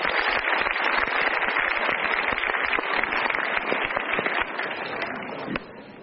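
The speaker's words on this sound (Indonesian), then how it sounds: "kita berikan tepuk tangan dulu" A studio audience on a motivational talk show applauds, a dense patter of many hands clapping at an even level before it tapers off slightly near the end.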